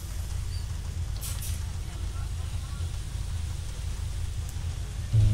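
Steady rain hiss in the OMSI 2 bus simulator game, a constant wash of patter over a low, rumbling drone, with a brief louder low thump near the end.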